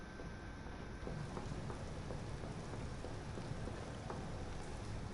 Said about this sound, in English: Why does it sound like it's raining?